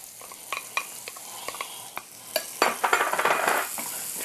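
Onion and garlic stirred into a pan of frying bacon, a steady sizzle swelling midway as a utensil scrapes and clinks against the pan in quick irregular strokes, close and fairly loud, with no talking.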